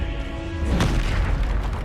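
A Bombarda spell in Hogwarts Legacy detonates with a single booming explosion midway through, a deep rumbling blast that rises over steady game background noise and then fades.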